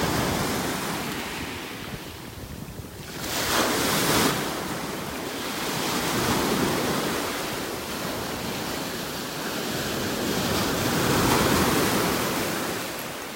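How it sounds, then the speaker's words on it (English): Small waves roll in steadily on a beach in North Naples, Florida, on a morning walk. The surf swells and recedes in a continuous close wash, with gusts of wind buffeting the microphone. "Nice little waves rolling in right here."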